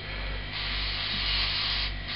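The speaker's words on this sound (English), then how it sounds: "spray it through again. Yeah, that's spraying a little bit better now." A steady hiss of an airbrush spraying, rising slightly louder partway through over a faint low hum, with no voices.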